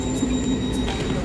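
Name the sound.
Swiss double-decker train arriving at platform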